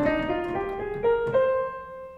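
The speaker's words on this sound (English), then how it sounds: "If I had a minor scale," A minor scale played on a single instrument in a music lecture, a sequence of sustained harmonic tones stepping through the notes, clear and close with no talking.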